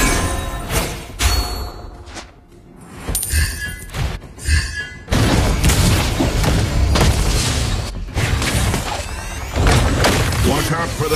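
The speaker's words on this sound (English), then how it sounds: "Your team destroyed a turret!" A turret destroyed in a MOBA game, heavy booming crashes and metallic clangs over a dense layer of battle effects and music, loud and continuous with a game announcer voice.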